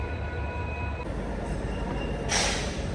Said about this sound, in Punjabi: ਇਹ ਟ੍ਰੇਨ ਆ ਜਿਹੜੀ ਫਰੀਦਕੋਟੋਂ ਆਈ ਆ ਇਹ ਲੱਗ ਰਹੀ ਆ ਇੱਕ ਨੰਬਰ ਤੇ